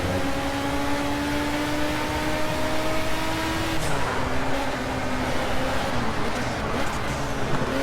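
Ford Capri Zakspeed race car in the video game Project Cars, its engine droning steadily at high revs with smoothly rising and falling pitch, and a shift in tone partway through as it drops and climbs again.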